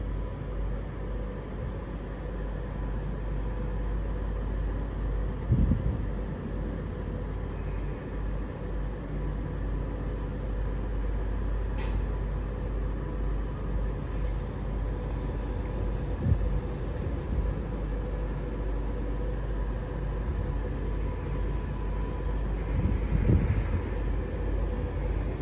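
Avanti West Coast train 390156 departing platform 4 at London Euston for Manchester Piccadilly gives a steady, low station rumble and hum throughout, with a few faint higher squeaks and thumps and no talking.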